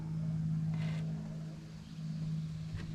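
A 1980 Peterbilt 359 truck's Cat 3408 diesel engine idles evenly without its exhaust stack, a steady low hum, smooth continuous drone at moderate distance with faint background noise and no talking.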